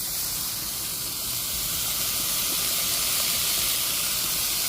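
Water sprayed onto a hot three-burner tabletop griddle with a hood sends up a steady, loud hiss of steam that holds unbroken throughout with no talking.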